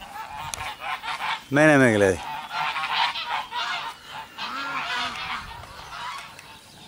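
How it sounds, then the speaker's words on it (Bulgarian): Embden geese on a farm give one loud, harmonic honk near the start, with fainter goose calls and rustling after it while a person speaks over the scene. "И сега ще измериме енденските гъски."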